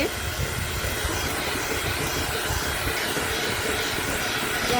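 An electric beater whips a mug of egg whites with sugar for a semolina cake, giving a loud, steady, close whirring drone that runs unbroken throughout, with no voices.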